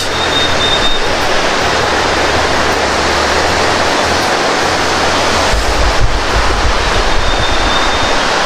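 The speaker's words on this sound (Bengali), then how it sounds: "আর এই হচ্ছে পানির তীব্র আওয়াজ।" A mountain river rushing loudly near Chomrong in Nepal's Annapurna region, a dense, constant roar of fast water heard up close, with some wind buffeting the microphone and no voices.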